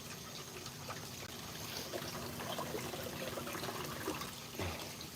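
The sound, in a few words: water running from a garden hose during gold cleanup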